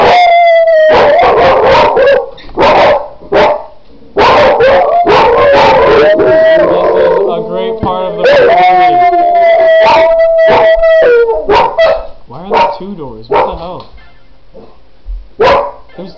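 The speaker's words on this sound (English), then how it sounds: "Shut up, dogs!" Several dogs bark and howl loudly and close by. Sustained wavering howls mix with bursts of barking, then fade to sparse yips toward the end.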